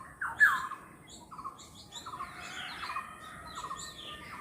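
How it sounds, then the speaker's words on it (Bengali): Birds call from trees under a cloudy sky after rain: a sharp squawk rings out first, followed by a string of chirps and whistles over a soft, steady background hiss. "পাখি ডাকছে, তো খুব ভালো লাগছে তাই না?"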